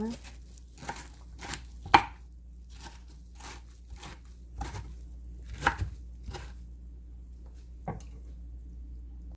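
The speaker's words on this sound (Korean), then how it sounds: "먹기 좋은 크기로 듬성듬성 잘라주세요." Fresh miyeok seaweed is cut coarsely into bite-size pieces with a knife, producing about ten distinct chopping knocks on a board, spaced irregularly over a low steady hum.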